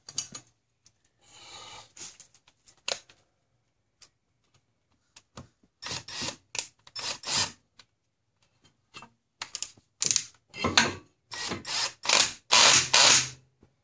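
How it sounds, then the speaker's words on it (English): A wrench tightens a bolt on a car's front brake assembly during a rotor and pad replacement, giving quiet sparse clicks at first, then bursts of close ratcheting that grow louder and quicker toward the end, with no talk. "I don't want to over torque it. So it's nice and tight."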